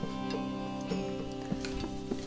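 Stirring a sauce of leftover sushi ginger and wasabi in a bowl, soft scraping strokes repeating every half second or so, close and steady over a humming room background, no talking.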